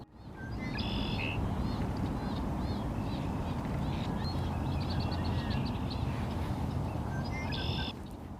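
Short, bright red-winged blackbird calls ring out near the start and end over a steady, loud wash of background noise.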